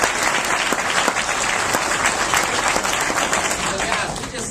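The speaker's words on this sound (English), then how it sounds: "Give yourselves a round of applause." Sustained audience round of applause at a business leaders' meeting, a thick roar of many clapping hands from a large crowd with a few sharp close claps, steady throughout and tapering slightly at the end.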